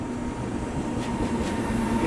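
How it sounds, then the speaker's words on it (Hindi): The Sachkhand Express, running Hazur Sahib Nanded to Amritsar, rushes past on a parallel track in rural Maharashtra, heard from inside a train as a steady, loud rumble and rattle of wheels with no talk. "बाकी ये कोई ट्रेन स्किप कर रही है"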